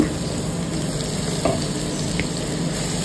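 Ginger garlic paste frying in a pan with whole spices for a prawn and pointed gourd curry, a constant close sizzle with occasional stirring knocks, no voices.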